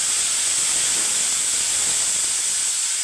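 Tomato hits a hot pan of frying onion, giving a steady, even hiss of sizzling that holds at constant loudness throughout, with no talking.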